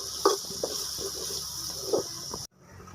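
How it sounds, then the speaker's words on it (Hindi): Finely chopped onion and green garlic fry in a pan, a steady sizzle broken by a few scraping stirs, ending suddenly and dropping to a faint hiss. "अब इसके अंदर प्याज और लहसुन जो है वो ग्रीन वो डालेंगे इसके अंदर"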